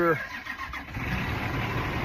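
Fire truck engine rumbling close and loud, with a short rising tonal sweep at the very start settling into a steady, gritty idle.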